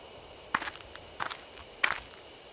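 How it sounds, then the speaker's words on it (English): Footsteps in the bushes in the video game Spirit Hunter: Death Mark: three separate rustling, crunchy steps spaced about two-thirds of a second apart, moderately close, over a faint ambient hiss. "Did you hear the footsteps too?"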